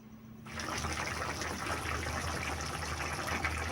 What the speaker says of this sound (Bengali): তো এই পর্যায়ে দেখেন খুব সুন্দরভাবে ফুটে উঠেছে।